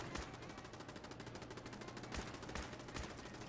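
Rapid, steady gunfire in Fallout 4, a continuous rattle of evenly spaced shots at low volume with a few sharper cracks standing out.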